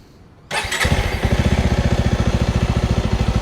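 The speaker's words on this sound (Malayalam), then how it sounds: "ഇതിൻ്റെ എക്സോസ്റ്റ് ഓട്ട് നിങ്ങൾ കേട്ടോക്കെ" A Bajaj Avenger 220 Cruise motorcycle fires up after a brief quiet moment and settles into a steady, evenly pulsing exhaust idle, close and clear, with no voices.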